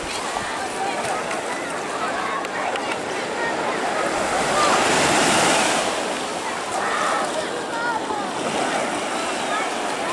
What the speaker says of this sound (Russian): Вот оно нагоняет с моря волны